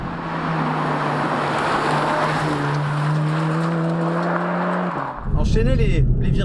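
A Volkswagen Golf GTI TCR driven hard through a string of corners: a loud, steady engine drone with clear harmonics and road noise, which breaks near the end into a sudden, rougher and louder burst.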